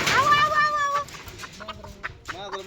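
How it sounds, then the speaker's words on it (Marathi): Chickens cluck close by, a burst of loud calls at first, then quieter scattered clucks and squawks. "काय आपल्या कोंबड्या आहेत ह्या"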